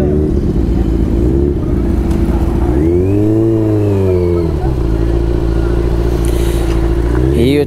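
A lineup of motorcycles idles loudly at close range, and one engine revs up and back down mid-clip over a constant low rumble.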